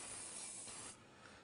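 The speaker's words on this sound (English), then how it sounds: "Spray Pam in there" Pam cooking spray shot into a stainless steel bowl: a single soft, continuous hiss lasting about a second before cutting off, quiet and close with nothing else heard.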